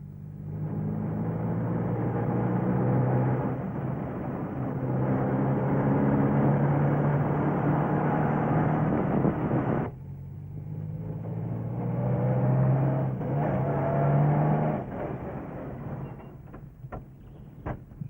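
A car drives along in a Bollywood film scene, its engine humming steadily and loudly. It eases off midway, picks up again, then slows to a stop with faint clicks at the end.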